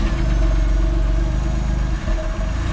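A Porsche 996 with a newly replaced exhaust runs at a steady, loud, deep idle, freshly started after sitting several days, with a slight dip in the rumble near the end.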